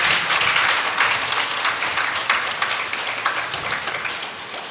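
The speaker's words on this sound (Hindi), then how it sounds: "हम सब उनके सम्मान में तालियां बजा करके स्वागत करें" An audience at a religious discourse applauds in welcome, a dense, sustained roar of many hands clapping that fills the space and slowly eases toward the end, with no speech over it.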